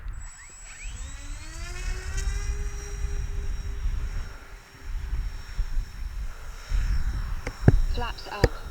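An RC OV-10 Bronco model airplane spooling up and taking off, a rising whine of its motors climbing in pitch and then holding steady at a moderate distance over outdoor wind rumble, followed by a few sharp clicks.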